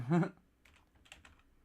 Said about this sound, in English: I'm not super used to typing on desktop anymore, so I'm not the most efficient myself.